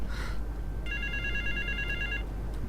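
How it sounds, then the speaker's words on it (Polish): A telephone rings in the video game GTA III, a steady electronic trill of repeated bursts over a low background hum, with no voices. "i zobaczymy co tam telefonik u nas"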